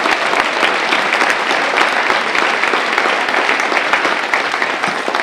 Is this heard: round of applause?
yes